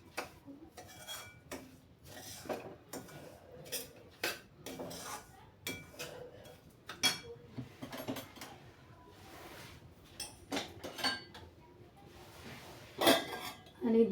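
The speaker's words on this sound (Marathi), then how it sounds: "छान पूर्णपणे फिरवून घ्यायचं साखर." Sugar being stirred into semolina in a metal pan for sheera, a spoon clinking and scraping against the pan in irregular close taps and rubs, with no talk.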